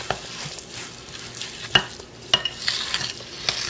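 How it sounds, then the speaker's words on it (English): Recipe ingredients are stirred together in a bowl, making a continuous soft scraping and rustling with a few sharper clicks of the utensil against the side, close and steady. "I like to mix it all together."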